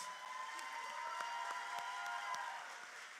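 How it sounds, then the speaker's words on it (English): Quiet applause from an audience at a retail boot camp showcase, soft scattered clapping heard from a distance alongside a steady hum. "So Ferris, let's give Ferris a big round of applause."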